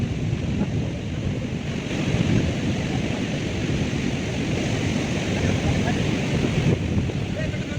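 Sea waves at Ganpatipule beach roar in a continuous wash of surf, loud and close, with wind buffeting the microphone throughout and no clear voices.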